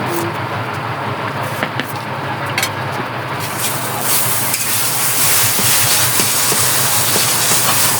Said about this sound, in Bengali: এবার কালো সর্ষে দিলাম আর একটু কাঁচা জিরে দেবো।